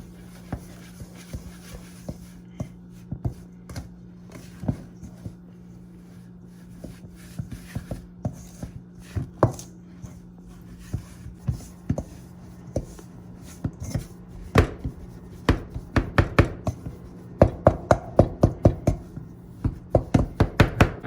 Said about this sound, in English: with a large mixing spoon, you're going to combine the wet and the dry ingredients together